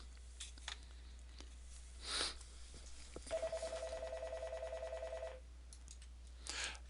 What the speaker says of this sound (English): Sorry about the phone ringing there.